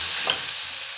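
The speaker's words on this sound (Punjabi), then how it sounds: "ਲਓ ਜੀ ਆਪਾਂ ਪਨੀਰ ਪਾਤਾ ਤੇ ਮੈਸ਼ ਕਰਕੇ ਇਹਨੂੰ ਚੰਗੀ ਤਰ੍ਹਾਂ ਤਵਾਂਗੇ" Crumbled paneer for bhurji is mashed and fried in a pan with cooked-down masala, giving a brief burst of steady hiss and a short spatula scrape, close and with no talking.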